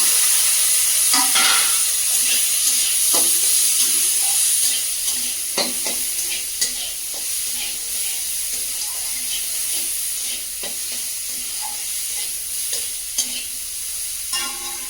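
Potatoes fry and get stirred in a hot pan with turmeric, a steady bright sizzle running throughout, broken by repeated scraping clicks of the spoon against the pan.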